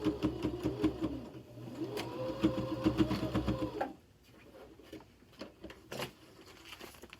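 Sewing machine stitching a fabric microwaveable bowl cozy, running steadily for about four seconds with a rapid mechanical chatter, then stopping for quieter handling noises as the fabric is shifted between backstitches.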